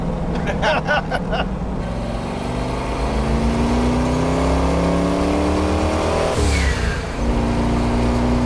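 The Datsun Rotsun's engine runs at light throttle with no boost, a loud, steady drone with rising pitch sweeps from inside the moving car and a brief shift near the end, with some talk.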